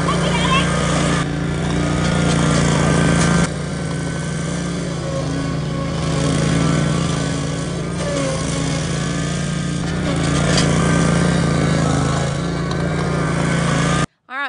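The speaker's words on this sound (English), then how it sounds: "You've learned how to start your mower." A lawn mower engine runs steadily and loudly at close range, holding an even drone throughout with slight shifts in pitch.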